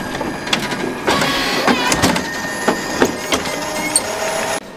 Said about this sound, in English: you're going to hit yes, and the machine will start going